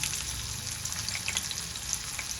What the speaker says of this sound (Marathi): आता आपण तेलावर मिरची आणि लसूण घालूया